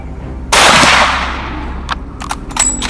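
A single loud, sharp gunshot during a hunt for invasive wild boar in Florida, fired close by with a long decaying tail and a few fainter clicks and knocks afterward, no talk.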